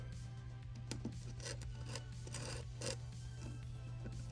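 Artist spatula spreading gritty modeling asphalt, close and quiet, with soft rasping scrapes in an irregular rhythm over a low steady hum.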